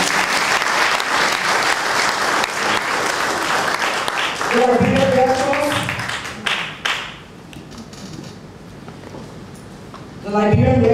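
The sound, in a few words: audience clapping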